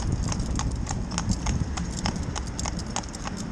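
Steady clip-clop of a traditional cob horse's hooves striking a hard road surface, an even walking rhythm over low wind rumble, moderately close.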